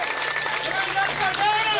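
Villagers of Panchi Jatan applaud together in a loud, dense, sustained burst of clapping that fills the whole moment, with voices mixed into the crowd noise.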